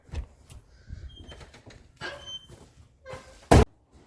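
At a horse facility, a door bangs shut with one sharp, loud slam near the end, after scattered quieter knocks and rustles.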